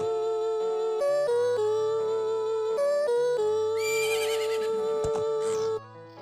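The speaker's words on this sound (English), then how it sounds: "this is Epona's song, which summons our horse Epona to us." Epona the horse in the video game The Legend of Zelda: Majora's Mask 3D whinnies with a wavering, bright neigh partway through a steady ocarina melody.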